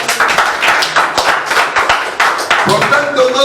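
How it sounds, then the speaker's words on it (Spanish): Church congregation clapping for the Lord, rapid overlapping hand claps filling the room, with voices calling out through it and a musical tone rising near the end. "Denle palmas al Señor"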